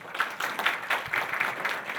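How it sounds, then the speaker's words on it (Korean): Brief, moderately loud applause from a conference audience at NextRise 2019 in a hall, with dense clapping for four panelists after a debate on open innovation in finance. "네, 금융권 오픈 이노베이션에 대해 열띤 토론 보여주신 네 분께 다시 한번 큰 박수 부탁드립니다"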